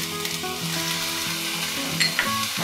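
Soya chunk fried rice with spring onion is fried and stirred in a pan, making a loud, continuous sizzle with spatula scraping and a few clinks near the end.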